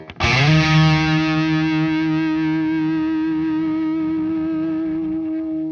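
A heavily distorted electric guitar through MXR pedals with a noise gate strikes one loud chord that rings out and sustains steadily, played alone with no other instruments.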